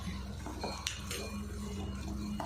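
Chicken being mixed with garam masala powder in a pan, giving soft scraping and clinking of a utensil against the metal pan with a few sharper knocks, steady and close, with no talking.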